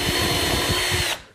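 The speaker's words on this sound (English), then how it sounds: "just line them up and then drill the hole with the countersink" A power drill with a countersink bit bores into wood for a chicken coop joint, one loud continuous whirring burst that stops abruptly near the end.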